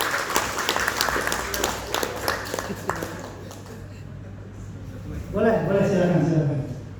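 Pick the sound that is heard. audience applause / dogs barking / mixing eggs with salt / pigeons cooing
audience applause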